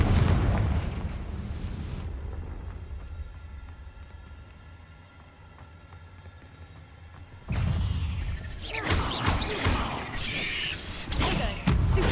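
The Confringo fire spell in Hogwarts Legacy erupts in a loud, dense booming blast, then a quieter rumbling stretch, followed by a second heavy, roaring burst of explosions.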